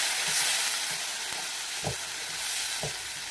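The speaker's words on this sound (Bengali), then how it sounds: "গ্রাইন্ড করা পেঁয়াজটা দিয়ে দিলাম।" Ground onion paste fries in a hot pan of oil for prawn malai curry, giving a steady bright sizzle with a few soft stirring scrapes and knocks spaced through it.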